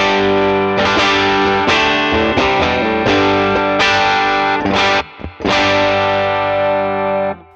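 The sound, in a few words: electric guitar through AmpliTube 5 AD30 and tweed amps with reverb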